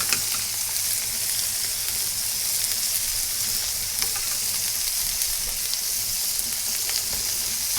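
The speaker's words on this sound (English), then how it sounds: "Let's take some of that butter mixture and we'll just lay it over." Garlic butter spooned over a year-old steak in a hot pan, a loud continuous hissing sizzle with crackling spatter, steady and close throughout with no voices.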